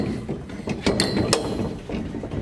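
An old welded barbell used as a gym door lock clanks and rattles as it is worked, a few metallic knocks and scrapes over a busy room background.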